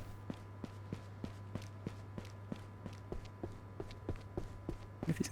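An enemy's footsteps in the video game Ghosts of Tabor: a steady, evenly spaced series of soft thuds over a low constant hum, fairly quiet, with a slight scuffle at the end.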